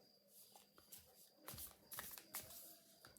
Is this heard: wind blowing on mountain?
no